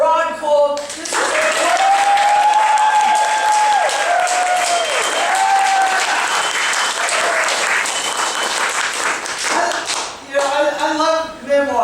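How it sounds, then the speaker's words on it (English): A book launch audience applauding Ron Kolm with loud, sustained clapping, while an amplified voice or tone rises over it in the first half and speech returns near the end. "let's give up a big third story applause for Ron Kolm"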